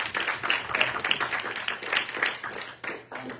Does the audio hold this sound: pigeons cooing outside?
no